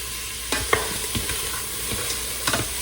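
Onions softening in an Instant Pot on sauté, stirred with several short scraping clicks over a soft continuous sizzle, close by and moderately quiet.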